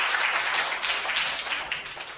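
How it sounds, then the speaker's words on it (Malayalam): A seated audience claps on request, a dense burst of many hands applauding together that thins out gradually over two seconds. "അന്ന് എല്ലാവരും ഒന്ന് കൈയടിച്ചേ"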